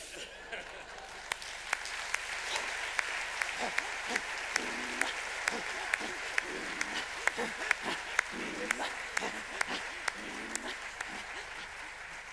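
An audience at a film festival opening ceremony applauds a trio after their performance, a sustained bed of clapping punctuated by sharp, sporadic louder claps, with a voice murmuring faintly underneath.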